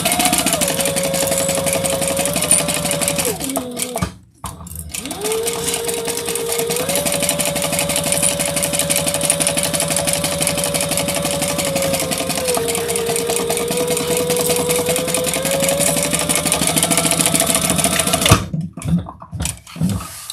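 A sewing machine runs steadily while basting fabric with a 1/8 inch seam, a loud close whirring hum with brief pauses and a short stop near the end.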